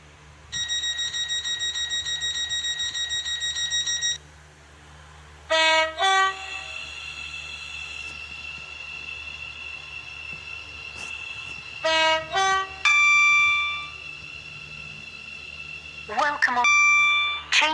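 Train pulling into a station terminus in the Roblox Stepford County Railway game, with a long steady chime tone, then repeated horn blasts and electronic announcement tones over a low rolling rumble, loud and close.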